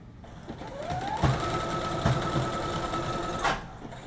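A sewing machine runs a zigzag stitch on a dress, a fast steady mechanical chatter close by with a rising motor whine as it speeds up, and a few soft clunks between bursts.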